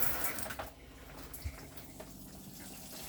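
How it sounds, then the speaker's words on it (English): Water runs out of the taps in a 2016 Swift Conqueror 565 caravan, a faint, steady splashing flow with a few soft knocks and no speech. "we've now got water running out of the system"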